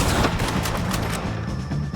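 Rapid gunshots in a Red Dead Redemption 2 shootout against the O'Driscolls, a loud, dense string of cracks and reports filling a short burst with no talking.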